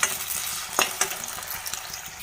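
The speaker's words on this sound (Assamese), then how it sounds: "এবাৰ আলু ফ্ৰাই কৰিছো।" Potatoes fry in a pan for a paneer curry, giving a soft, steady sizzle. A few light stirring knocks sound close by.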